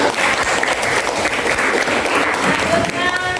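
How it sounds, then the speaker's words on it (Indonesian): Applause rings out for a junior high school group, SMP Negeri 31 Samarinda, after their physical model presentation: a steady, fairly loud wash of many hands clapping in a room with voices mixed in. "Tepuk tangan buat kelompok."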